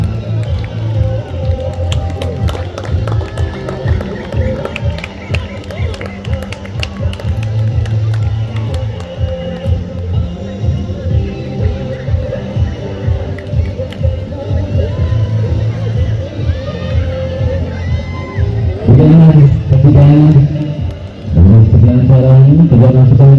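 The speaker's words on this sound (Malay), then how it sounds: "Berikan tepukan gemuruh." A crowd cheers and claps at an Islamic primary school's annual sports day, a dense roar of babble and applause under loud announcer talk, swelling louder near the end.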